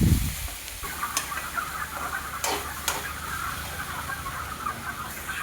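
Leafy greens fry in oil in a pan for rice upma, giving a continuous crackling sizzle. Occasional sharper clatters and scrapes of stirring cut through.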